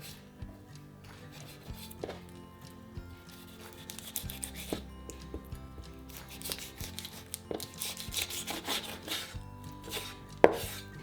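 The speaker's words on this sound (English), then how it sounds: "You're going to take your knife and just cut." A knife cutting through the joint of a whole raw chicken, with scattered soft chopping and crunching cuts over a low background hum and one sharp snap near the end.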